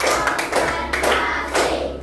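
A school class claps in unison during a counted clapping drill, three sharp group claps spaced evenly over two seconds with a voice talking between them in the room.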